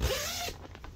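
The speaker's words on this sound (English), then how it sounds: "Nice zippers, nice working zippers." A zipper on a four-person camping tent is pulled open in one quick, close rasping run, ending with a couple of brief scratchy ticks.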